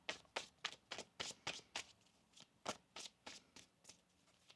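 Tarot cards being shuffled in quick crisp riffles, a run of sharp flicking bursts with short pauses between, close and fairly quiet.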